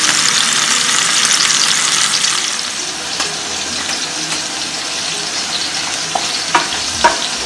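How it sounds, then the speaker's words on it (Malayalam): Mackerel fry in hot oil with a loud, close, continuous sizzle that eases slightly partway through. A few sharp clicks from the pan come near the end, and no one speaks. "അപ്പൊ എണ്ണ ചൂടായിട്ടുണ്ട്. നമുക്ക് ഈ അയിലക്കുട്ടന്മാരെ ഒന്ന് വറുത്തെടുക്കാം."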